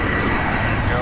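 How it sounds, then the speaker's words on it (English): A 21-year-old United Airlines Boeing 757 departing LAX on the south side produces a steady, broad engine roar that fills the whole second, with faint background chatter mixed in. "Departing here on the south side is going to be United Airlines flight 2039 going to Chicago. It's a Boeing 757."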